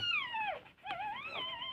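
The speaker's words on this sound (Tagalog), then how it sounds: "Yan yung aking mga aso. Ang aking mga tuta." A dog whimpers among newborn puppies, two drawn-out, high whining cries, faint and close, with a brief pause between them.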